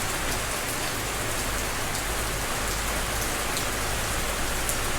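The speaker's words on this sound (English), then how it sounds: "Yet another day of rain, rain, rain." Heavy rain pours steadily on the edge of a typhoon in Naga City, Philippines, a dense, even hiss of drops on surfaces, continuous and fairly close, with no voices.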